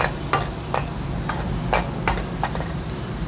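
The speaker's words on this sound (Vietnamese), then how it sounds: "Ta đảo đều tay lên cả nhà." Tomatoes are stirred in a hot pan for a river catfish hotpot, with a utensil scraping in repeated close strokes over a soft, continuous sizzle.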